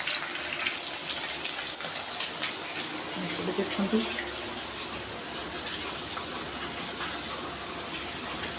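Heavy rain pours steadily outside a home kitchen, a dense, continuous wash of falling water at even loudness, with a brief murmur of speech over it.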